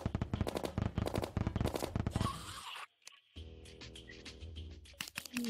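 Dynamite detonates in the video game Terraria, heard as a dense burst of loud, rapid blasts and crackles. After a brief drop it is followed by a busier stretch of game sounds and music.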